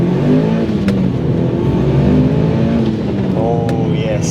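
A Mitsubishi Evo 8 MR of about 300 horsepower drives and accelerates, its engine note droning loud and steady from inside the cabin, with the pitch rising as it pulls, and a person speaks over it.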